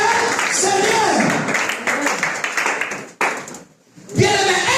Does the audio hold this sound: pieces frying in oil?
no